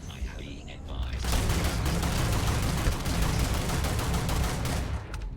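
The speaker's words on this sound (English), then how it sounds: "That gun is actually really good so far. It's doing a good job with killing like everything." Sustained rapid gunfire from a weapon in the video game Starfield, loud and dense after a quieter first second, continuing steadily to the end with a voice faintly present.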